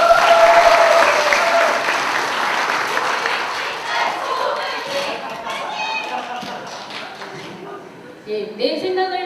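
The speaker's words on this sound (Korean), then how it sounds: "큰 박수 주시기 바랍니다." Audience at a public officials' presentation event applauding a speaker, loud dense clapping that gradually thins and fades, followed by a speaker beginning to talk near the end.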